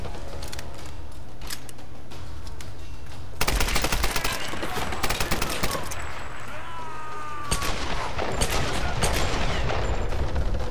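Rapid automatic gunfire rattles in the Tomb Raider video game, loud sustained bursts of machine-gun shots punctuated by sharp single reports and brief pauses, dense and close throughout.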